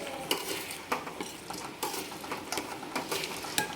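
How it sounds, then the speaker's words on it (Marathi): A spoon stirs sugar syrup with a little milk in a pot while boondi ladoo is being made, giving repeated light metallic scrapes and clinks in an irregular rhythm, close and fairly quiet. "आपल्याला दोन चमचे दूध टाकायचं आहे आणि परत छान ढवळून घ्यायचं"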